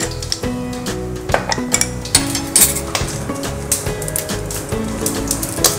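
Mustard seeds hitting hot coconut oil in a pan, a busy crackle of sharp pops and spatters over a sizzling base, with occasional clinks of a spoon on metal, steady and close throughout.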